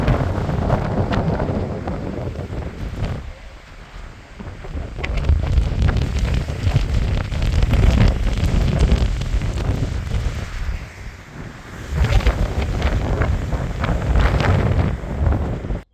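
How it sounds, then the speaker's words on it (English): Strong gusting wind of roughly 27 to 30 mph buffets the microphone in a steady roar, with louder surges and brief lulls, outdoors the morning after a stormy night on an off-road trip. "I did record some footage of the wind that next morning"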